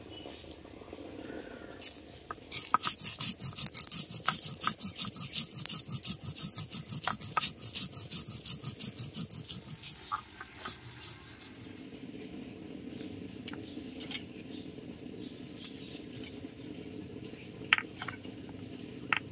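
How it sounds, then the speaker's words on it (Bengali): Dried red chillies, cumin and coriander ground by hand on a grinding stone: a fast, rhythmic rasping scrape, steady and close, then a softer, slower rubbing, with faint bird chirps in the background. "সেদ্ধ হতে হতে আমি কিছু মশলা বেটে নিচ্ছি"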